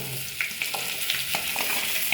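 Hissing sizzle of vegetables sautéing in a hot pan, with light scraping taps as a utensil stirs them.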